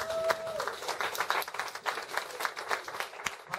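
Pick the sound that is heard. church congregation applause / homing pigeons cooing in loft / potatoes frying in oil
church congregation applause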